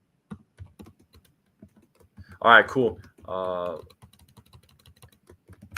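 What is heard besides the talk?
typing on a computer keyboard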